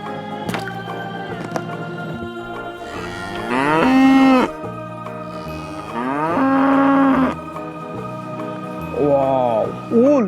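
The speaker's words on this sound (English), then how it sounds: "Cow, white and black color cow." A black-and-white cow moos loudly three times in long, drawn-out calls, each rising and falling, with quieter gaps between them.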